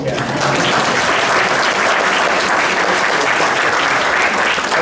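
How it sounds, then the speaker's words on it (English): An audience at a heritage museum talk on Prohibition gives a sustained, steady round of applause for speaker Peter Kern, many hands clapping evenly and loudly for several seconds. "So let's give Peter a really nice round of applause."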